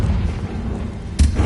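A Confringo blast spell explodes in Hogwarts Legacy, a video game: steady low rumble, then one sharp, loud booming burst near the end.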